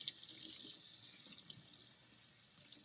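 Running tap water rinses a Barbie doll's hair, a quiet, steady hiss of flowing water with faint splashes, heard alone and up close.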